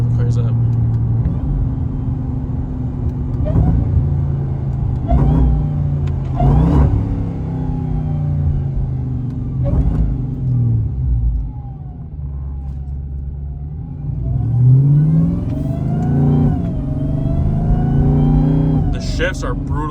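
A Chrysler 170 with all-wheel drive and new fuel pumps rumbles and revs up hard, pitch climbing through harsh automatic upshifts, with someone talking over the steady road noise.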